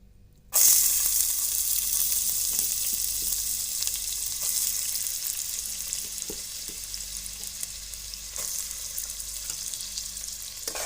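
Onions sizzle steadily in hot oil for aloo bhaji, a loud bright frying hiss starting abruptly and continuing close up with faint stirring clicks.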